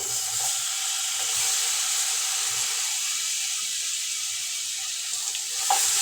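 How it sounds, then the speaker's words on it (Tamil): Banana pieces frying in a spoonful of ghee in a kadai, a steady, loud, bright sizzle and hiss that runs unbroken from start to end, with a faint stir or clink near the close. "வாழைப்பழத்தை சேர்த்து இது நெய்யிலே நல்லா கொஞ்சம் நேரம் வதக்கி விட்டுக்கலாம்"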